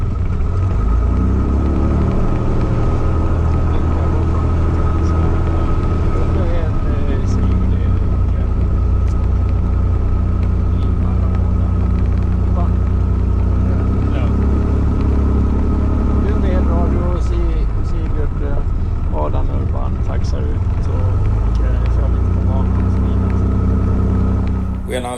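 A Piper Turbo Arrow IV aircraft engine idling and rumbling while taxiing, with a loud, continuous low drone and a slight change in tone partway through, heard close up.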